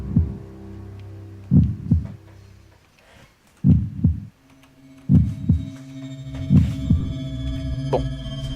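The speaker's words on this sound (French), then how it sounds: "C'est quoi ça? Battement de cœur." Heartbeat sound effect from the horror video game Ib, a steady series of low double thumps over a continuous droning hum, with no talking.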